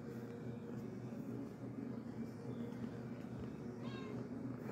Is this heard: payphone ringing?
no